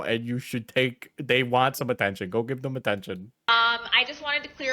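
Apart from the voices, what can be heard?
No distinct noise like a dog, phone or traffic.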